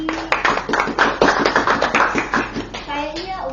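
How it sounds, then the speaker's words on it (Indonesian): Applause from a small audience at an Indonesian mosque youth association talk, a quick run of sharp, close claps that are somewhat sparse, with voices mixed in. "Boleh dong kita kasih tepuk tangan untuk Kak Yogi."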